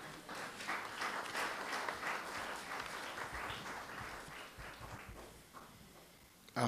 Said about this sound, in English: You can clap your hands, it's appropriate.